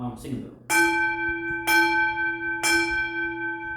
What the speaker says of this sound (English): realign our chakras with a little singing bell